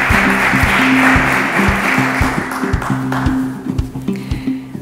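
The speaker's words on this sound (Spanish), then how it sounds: "Un aplauso para cada uno de ellos." Applause from an audience at a municipal awards ceremony honouring local students, a broad wash of clapping filling the room with a steady, moderately loud texture, mixed with faint tonal sounds and a brief background voice.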